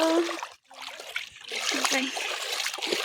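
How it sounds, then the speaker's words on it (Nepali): Water splashes and sloshes as someone wades across a river, uneven bursts with a brief pause early on and a voice talking over the wading. "अहिले म खोला तरिसकेको छु"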